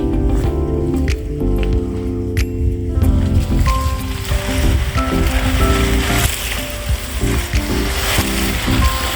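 Water sprayed from a hose over the leaves of a three-year-old avocado tree outdoors, a loud continuous rushing hiss with steady low tonal sounds running beneath it.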